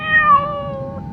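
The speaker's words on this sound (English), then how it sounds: "he noticed a cat meowing by the temple gate" A cat meows once by a temple gate in the rain, a clear, close, drawn-out tonal cry that slides downward and fades, heard alone.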